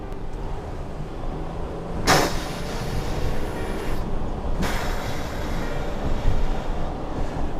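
Inside a rear-wheel-drive luxury van accelerating from 20 to 40, a steady, loud low rumble of engine and road fills the cabin, broken by two brief clicks.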